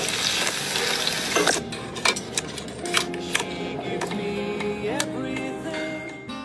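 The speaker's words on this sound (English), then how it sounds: "best-selling cookbook author Adeena Sussman, mixing, frying, bruleeing, and tasting her recipe for s'mores latkes" Kitchen sounds of s'mores latkes being mixed and fried: clinking and scraping of utensils against bowls and pans, sharp clicks, and a running faucet under a steady sizzling hiss, close and moderately loud.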